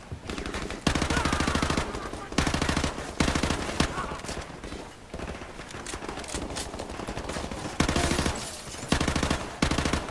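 Automatic gunfire in Call of Duty Modern Warfare Remastered, loud and close, with rapid bursts of shots repeating throughout amid game sound effects.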